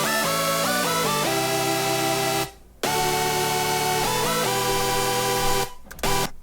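A layered synth chord sequence with a massive patch in a bassy section plays on its own, the chords sustained in long blocks with a brief near-silent gap midway and short cutoffs near the end.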